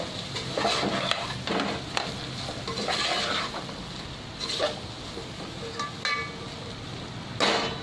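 Vegetable pulao with potatoes being stirred in a pan, with repeated scraping spoon strokes and a light sizzle heard close up.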